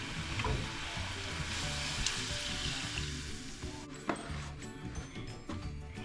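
Water and whole milk heat in a pot for tea, giving a steady bubbling sizzle that settles into quieter simmering with a few light clinks.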